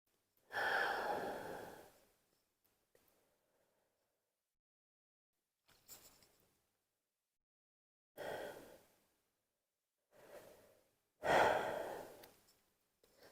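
Slow, deep breaths during a yoga puppy pose, soft sighing exhales and inhales repeating every few seconds with quiet gaps between, close and alone without talk.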